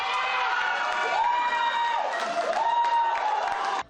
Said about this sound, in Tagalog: Walang tigil sa hiyawan at palakpakan sa tuwing makakapuntos si Ayala.